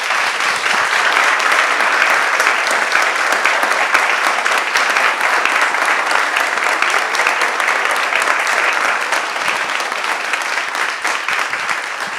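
An audience applauds Chilean photographer Paz Errázuriz at a talk, a dense, steady wash of many hands clapping that holds at full strength for around twelve seconds.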